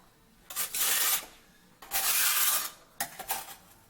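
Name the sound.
scraping off excess tile grout with a stainless steel pan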